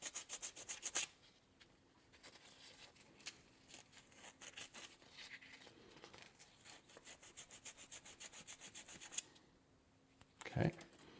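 A coin ring being smoothed by hand with 220 grit sandpaper, giving a quiet, steady, rhythmic rasping that runs for several seconds, close and faint, with a brief louder knock near the end.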